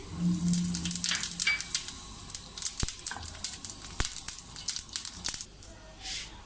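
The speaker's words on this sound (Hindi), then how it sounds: "इसके अंदर 1/2 टीस्पून ज़ीरा डालेंगे।" Cumin seeds crackle and sizzle in hot oil with sharp pops and spattering, fading toward the end.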